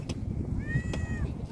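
A cat meows once over a low background murmur in a home kitchen where salted shark fish is being eaten; the short tonal call is clear and fairly close, with no talk during it.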